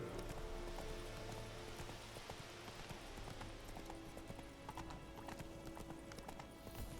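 A horse's hooves clip-clop steadily on a road in The Witcher 3, quiet and regular footfalls under a soft ambient bed, with a faint snort or whinny from the horse.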